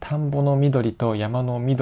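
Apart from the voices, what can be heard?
No everyday noise stands out behind the speech.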